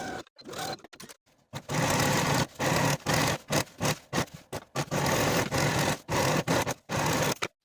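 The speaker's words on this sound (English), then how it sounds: "Now sew the inner leg seam with a 5/8 inch seam allowance" Sewing machine running the inner leg seam of pull-on pants in bursts, several short whirring runs separated by brief pauses, close and clear with no talking.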